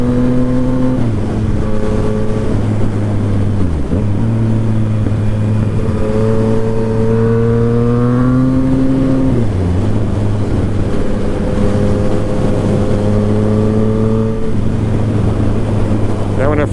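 A 2017 Yamaha FZ-09 motorcycle rides twisty roads, its engine droning loud and close as revs rise and fall through repeated gear changes, over steady wind rush.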